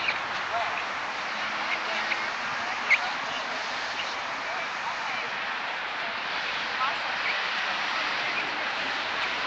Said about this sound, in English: some honkers now.